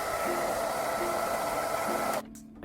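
A hair dryer blows steadily to dry paint on a hand-painted pot, a loud continuous whir that holds for about two seconds before abruptly cutting off, leaving faint room tone.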